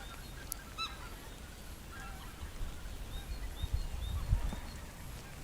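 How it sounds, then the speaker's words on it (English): Wild geese honk in scattered calls as a flock passes overhead during a rainy riverside outing, the cries fairly faint and distant over steady rain and low wind rumble. "Do you hear wild geese? They are returning from hot countries to the motherland."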